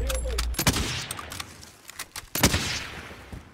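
Gunfire in the Warzone battle royale game, a few sharp shots and bursts, one loud crack near the start and another about two-thirds through, over background game noise.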